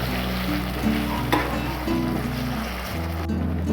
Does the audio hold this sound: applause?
no